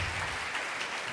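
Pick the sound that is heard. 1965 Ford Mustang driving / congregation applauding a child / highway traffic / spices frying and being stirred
congregation applauding a child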